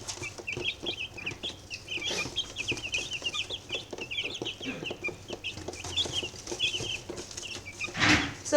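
Chicks clucking and scratching in a coop, a busy run of soft clucks and chirps over light rustling, with a louder squawk near the end.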